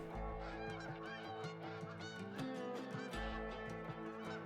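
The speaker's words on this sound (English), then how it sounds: "Lots of geese." A flock of geese honks in the hunting game Call of the Wild, with many overlapping, nasal calls sounding close and loud throughout and no talk over them.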